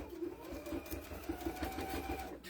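Juki heavy-duty sewing machine stitching a bird-shaped potholder, a steady quiet rapid mechanical chatter running evenly for a few seconds.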